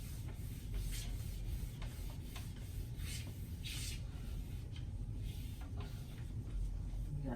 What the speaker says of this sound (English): And then you can wipe the table when you're done.